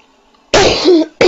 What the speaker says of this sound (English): Sorry, I had to get that cough out